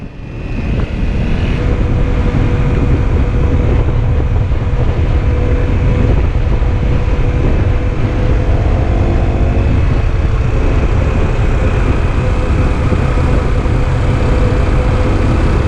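Honda CRF250L and Kawasaki KLR 650 dual-sport motorcycles cruising on a paved mountain road, a steady loud engine drone mixed with heavy wind rush throughout, with no talking.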